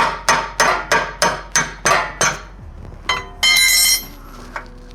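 A rear suspension arm bolt on a five-link suspension being hammered back in: seven sharp, evenly spaced metallic strikes, then a ringing metallic clatter and a brief louder scrape.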